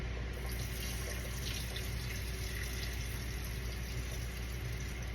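Tap water runs steadily over rice being rinsed in a pot or sink, a continuous close splashing stream with no talk.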